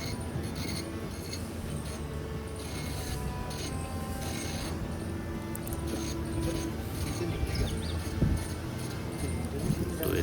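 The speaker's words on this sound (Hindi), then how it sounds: "पेपर अंदर की तरफ पिकअप कर लिया है और प्रिंट भी हो रही है" An Epson PLQ-20 passbook printer pulls in paper and prints, with a continuous mechanical whir and ratcheting rattle under a busy background, running steadily for about ten seconds.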